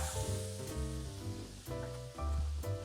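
Scallop roes frying in foaming brown butter with a squeeze of lemon, a loud steady sizzle with bubbling crackle that swells as the roes hit the pan, close up and with no talking.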